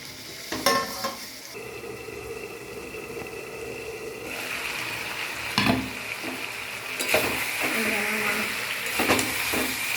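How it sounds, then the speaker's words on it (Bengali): Meat being stir-fried in mustard oil in a pan, a steady sizzle running throughout with repeated scraping and stirring strokes of a utensil against the pan. "এবার আমি মাংসটাকে কষিয়ে নেব"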